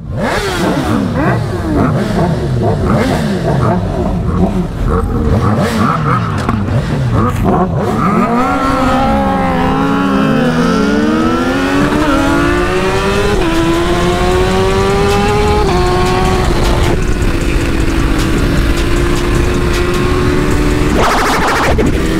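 Honda CBR1000 Repsol motorcycle accelerating hard, engine revving up through repeated rising gear sweeps, then holding a loud sustained high whine, close and dominant throughout.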